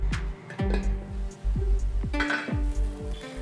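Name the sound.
stirring snake gourd puttu in a pan, then covering it with a lid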